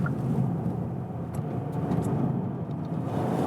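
Inside a Kia ProCeed GT-Line in sport mode, the engine pulls under acceleration with a steady, moderate drone and road noise, heard continuously from within the cabin.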